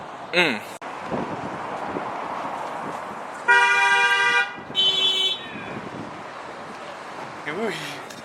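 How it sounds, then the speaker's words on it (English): Two long car horn blasts sound in succession, loud and fairly close, over outdoor wind noise and background chatter. "I thought they were honking at us."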